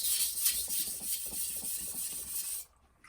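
Knife blade pushed along a soaked wet water stone, giving rhythmic scraping strokes in a steady back-and-forth rasp with bright hiss, close and clear, stopping abruptly near the end; no one talks.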